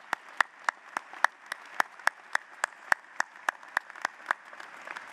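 Sparse, rhythmic handclaps from a graduation ceremony audience, about three sharp claps per second, fairly close and steady, with little crowd noise beneath.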